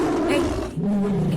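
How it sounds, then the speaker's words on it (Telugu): A tiger roars, a loud, close, rough growl that runs steadily through the whole moment without any talk over it. "బాబాయ్ పులి!"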